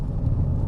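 Steady low road rumble inside a 2012 Kia Sorento while driving, a constant dull tyre and engine drone filling the cabin, brief and without speech.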